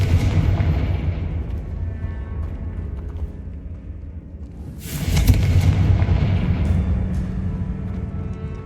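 Bombarda and Confringo spells burst in Hogwarts Legacy with a deep rumble that keeps rolling, then a loud blast swells midway and fades into a lingering roar.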